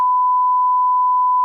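A phone gives a steady, unbroken, single-pitch electronic beep, loud and clean, that lasts the whole time with no other sound, as a disaster alert text message comes in.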